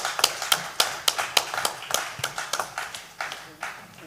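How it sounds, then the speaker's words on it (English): Applause from a symposium audience after a presentation on GMO foods, heard as sparse, distinct claps at a steady rhythm, somewhat close and moderately loud, with a few individual hand claps standing out. "Dr. Miriam deserves another and a better round of applause for her presentation"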